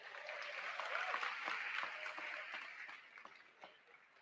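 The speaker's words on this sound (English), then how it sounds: "One more round of applause for that." An audience at a Lincoln University address applauds the choir, faint and distant clapping that holds steady, then thins out toward the end.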